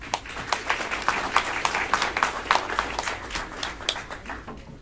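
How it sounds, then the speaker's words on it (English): An audience at a lunch-and-learn estate planning talk applauds a speaker being introduced, with dense, steady clapping of many hands sustained for several seconds at moderate volume. "So I'm going to a big round of applause for Rob Melick."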